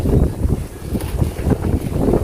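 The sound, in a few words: wind blowing outdoors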